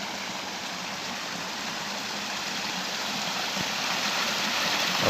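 Meltwater and rain runoff rushing through mountain channels in Kargil during heavy snowfall and flooding, a dense, steady broadband roar of flowing water that holds close and loud throughout, swelling slightly toward the end.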